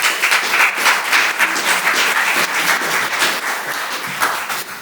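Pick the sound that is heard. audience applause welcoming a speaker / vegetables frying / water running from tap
audience applause welcoming a speaker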